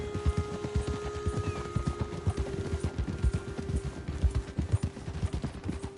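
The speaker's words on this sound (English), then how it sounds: "Get a hold of that horse," Horse hooves clip-clopping in a video game, a steady rhythmic stream of close, moderately loud hoofbeats at a walking pace over a faint background hum.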